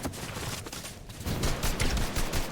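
Dense gunfire in Fortnite, rapid bursts and overlapping shots crackling continuously and loudly, with no talking.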